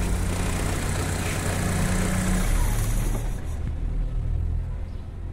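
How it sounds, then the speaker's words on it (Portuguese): A Chevrolet Blazer/S10 engine idles close by with a steady low rumble, then is switched off, the running note fading out near the end with no talking. "vou desligar o motor"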